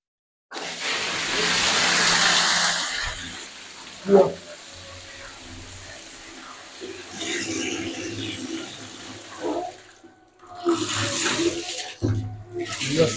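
A battery-powered 12 volt DC submersible water pump drives water through a one-inch pipe, giving a loud rushing hiss and splashing that later turns to gurgles and sputters, with voices at times.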